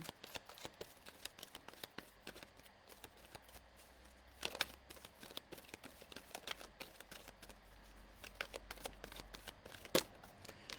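Tarot cards are shuffled by hand for a reading, with quick bursts of crisp riffling and soft slapping close up, some louder snaps among them, in an otherwise quiet room.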